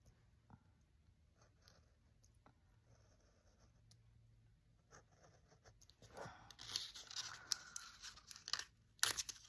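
A paper stencil, cut into shapes on a self-healing mat, rips with a sudden crinkly tearing burst that grows louder toward the end, after a stretch of quiet faint rustling.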